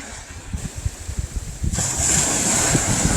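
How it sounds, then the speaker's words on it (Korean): Sea waves wash onto Wonsando beach, a continuous broad rush of surf mixed with gusty wind buffeting the microphone, growing louder and steadier partway through. "아 파도 소리도 이쁘고"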